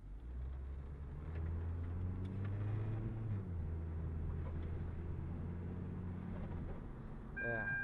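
A 2007 Hyundai Sonata with a 2.4L engine driving, a steady low road rumble and engine drone heard from inside the cabin, with someone speaking over it.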